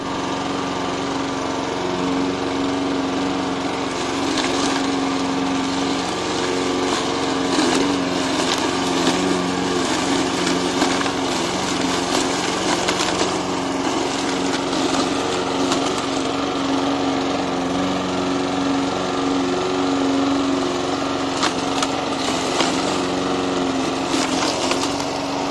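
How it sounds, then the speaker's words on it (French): A lawn mower runs steadily while shredding hedge trimmings into fine green-waste mulch, a loud continuous engine drone with crackling, splintering wood chatter throughout and no voices. "une fois la tondeuse passée nous permettra d'avoir un broyat de déchets verts qui sera très fin"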